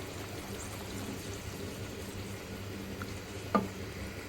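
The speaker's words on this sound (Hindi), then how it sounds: "अब इसको अच्छी तरीके से मिक्स कर लें" Milk-pack cream is stirred in a cooking pan, a soft continuous bubbling and swishing texture at low level, ending with a single short clink of a utensil against the pan.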